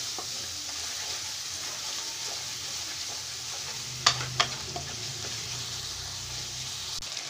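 Onion sautéing in a pan with turmeric and salt, a steady sizzle with stirring and a couple of sharp scrapes or clinks partway through, with no talking.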